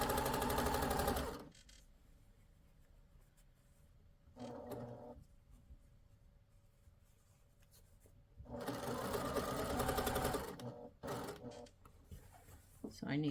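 A sewing machine runs in bursts as it stitches flat elastic into clothing, rapid needle chatter starting and stopping between quieter pauses with faint handling noises.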